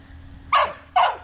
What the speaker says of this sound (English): Better not bark. I'll bark back. Bark!